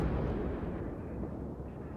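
Heavy, continuous booming shell explosions from citadel hits in the naval combat game World of Warships, a dense low rumble that stays loud and steady throughout.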